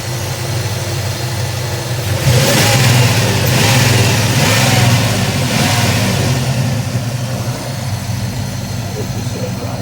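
A 2000 Chevy S10 resto-mod with a freshly rebuilt LT1 engine, just a couple hundred miles on it, idles loudly and close, then swells through several repeated revs before settling back to a steady idle rumble.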